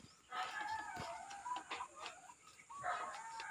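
Chickens cluck in a coop in short, faint bursts, with a steady high hum in the background.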